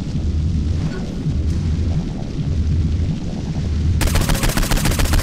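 Rapid video game gunfire with flaming bullets rattles loud and dense throughout, heavy low booms under the shots, then turning into a sharper, faster stream of bursts over the final second.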